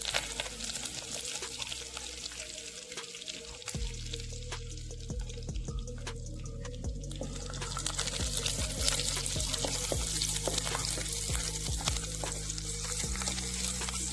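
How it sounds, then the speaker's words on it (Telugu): Garlic and curry leaves fry in hot oil over a low flame for a brinjal curry, a continuous close sizzle with crackles and pops that grows louder partway through. "లో ఫ్లేమ్లో పెట్టుకొని వెల్లుల్లి మంచి గోల్డ్ కలర్లో వచ్చే వరకు బాయిల్ చేయాలి"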